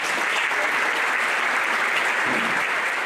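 A festival audience in Isola gives loud, continuous applause, a thick wash of many hands clapping at once, steady and unbroken from start to finish.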